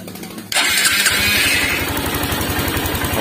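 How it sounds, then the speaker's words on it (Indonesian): A motorcycle engine cranks on its electric starter and fires up, then settles into a steady, close, loud idle with a rapid even putter and no talking. "Kita coba double starternya."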